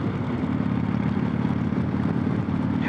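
A Harley-Davidson Softail Springer V-twin motorcycle engine idles with a steady, low burbling rumble and some mechanical rattle and shaking, continuous and fairly close throughout.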